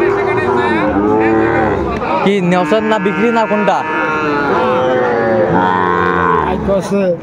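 A Sahiwal bull calf at the Aftabganj cattle market lets out repeated loud, drawn-out moos close by, while someone talks over the calls.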